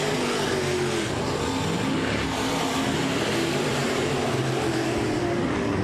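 A race car at I-37 Speedway screams past on the front stretch, its engine held hard against the rev limiter in a loud, continuous, buzzing roar that fills the whole stretch without a break.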